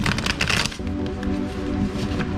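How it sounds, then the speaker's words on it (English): A deck of tarot cards is shuffled close up, a quick riffle of fluttering card snaps followed by softer sliding and tapping as the cards settle. "First, I'm going to give this a shuffle."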